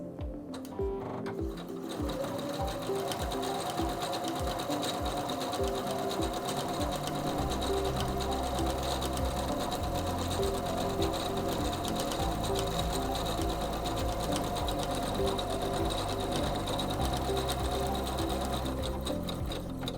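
A SINGER C430 sewing machine stitches a row of slant over edge stitch, a loud, close mechanical whir with a rapid, steady needle rhythm that holds continuously for the whole stretch after a brief uneven start.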